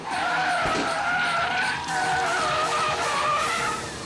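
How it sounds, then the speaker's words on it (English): A car skids out of control on a highway, tires squealing loudly in a sustained smear for about four seconds, with engine noise beneath and no voices. "A car swerves to avoid the Mustang and skids out of control."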